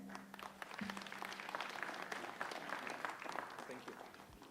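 Conference audience applauding after a presentation at a national wage bill conference, steady moderate clapping from a roomful of people lasting several seconds.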